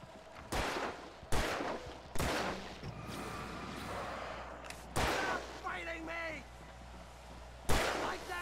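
Several sharp gunshots fired one at a time in Alan Wake Remastered, the video game. Loud, spaced bursts arrive in an irregular rhythm, with a voice talking between them.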